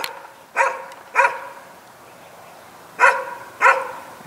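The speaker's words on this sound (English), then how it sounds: "The dog doesn't stop." An outdoor dog barks in sharp bursts, two quick barks, a pause, then two more, loud and close.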